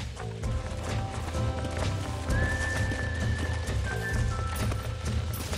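Horse neighing and hooves clip-clopping in the Western video game Red Dead Redemption, with a steady gallop throughout and a long whinny rising midway over layered game ambience and music.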